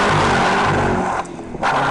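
A 2011 Cadillac CTS-V Coupe with a manual gearbox accelerates hard in second gear, its engine roaring loudly and continuously toward redline with a brief dip partway through.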